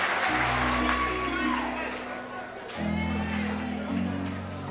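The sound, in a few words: audience applause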